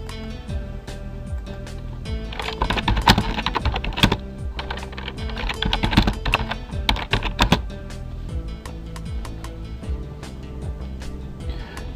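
Keys clatter on a computer keyboard in irregular bursts, close and crisp, with quicker flurries of typing in the middle and softer taps toward the end.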